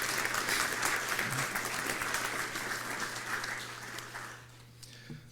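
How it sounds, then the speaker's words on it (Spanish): An audience at a university law lecture gives sustained applause that gradually tapers off over about five seconds, a dense, fairly distant wash of clapping under a low steady hum. "Un aplauso también para ellos, por favor."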